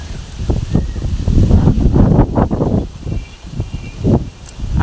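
Strong wind blowing before a storm near Bhavnagar, Gujarat: a loud, continuous low roar and buffeting gusts against the microphone, with rustling trees, and no talk.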